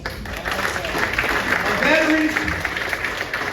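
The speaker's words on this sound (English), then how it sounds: "Give him a round of applause." Applause from a crowd at a county town hall fills the whole stretch, steady and fairly loud, with voices mixed in underneath.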